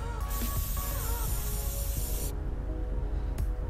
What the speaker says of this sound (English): Spray it on the front and back of the hands